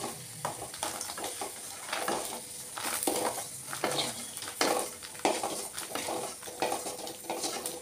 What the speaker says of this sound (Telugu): ఎండుమిరపకాయలు వేసుకొని మంచి కలర్ వచ్చే వరకు వేయించుకోవాలి.